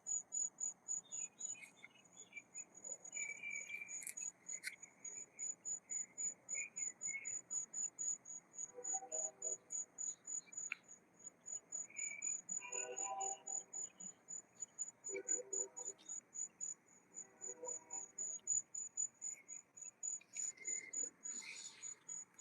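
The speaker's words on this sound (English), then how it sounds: "Can I hear a cricket chirping?" Crickets chirp steadily through the night in a garden, a continuous high trill under faint distant voices and a few scattered bird calls, evenly pulsing throughout.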